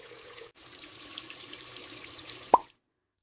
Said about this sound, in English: I wash the cup.